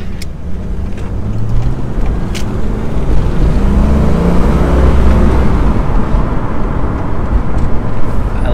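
An old barn-find Ford Fox Body Mustang being driven, its engine a loud, steady low drone with road rumble heard from inside the car.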